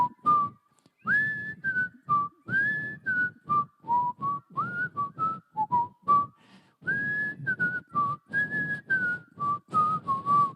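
An audience whistles the Andy Griffith theme together, a clear melodic group whistle in short phrased notes with brief pauses, fairly close and with no talking.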